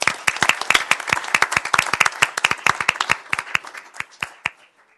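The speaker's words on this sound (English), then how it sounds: "Let's give a round of applause for this group." Scattered applause at a city council meeting, a small group's distinct individual claps in an uneven rhythm, fairly close, tapering off to a few last isolated claps.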